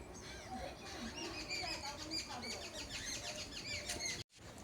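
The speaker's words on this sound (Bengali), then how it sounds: "আর এখানে পাখি কলরবটা নিশ্চয়ই আপনারা পাশ থেকে শুনতে পাচ্ছেন" Many birds chirp and twitter around a home garden, with a dense, steady stream of short, high calls overlapping at moderate distance and continuing until a brief cutoff near the end.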